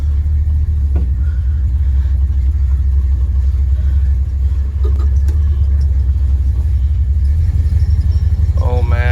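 A 1977 Dodge D200 pickup with an aftermarket carburetor in place of the stock 2-barrel drives on a test run, its engine a loud, steady low rumble close by with a little road noise throughout.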